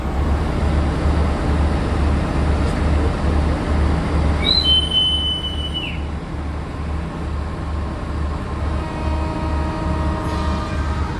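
Rhythmic clatter and rumble of the Batara Kresna passenger train rolling past on rails in Indonesia, with a couple of high metallic squeals midway, continuous and fairly close.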